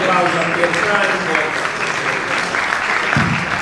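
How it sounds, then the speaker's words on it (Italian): Applause at an elective assembly of an Italian regional association: loud, steady clapping from the room, sustained and close, with some talk mixed in underneath. "facciamo un applauso a Pier Franco"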